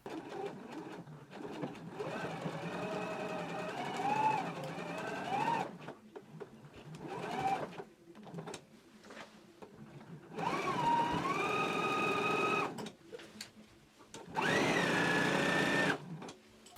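Close sewing machine stitching the facing hem of a jacket, running in several steady whirring bursts with short pauses between them, quiet, with no talk.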